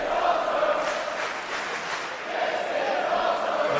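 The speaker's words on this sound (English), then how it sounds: "The crowd in Milton Keynes are right on the money." Wrestling crowd at a Pro Wrestling World Cup show in Milton Keynes cheers and chants steadily, a dense roar of many voices that swells in waves without a break.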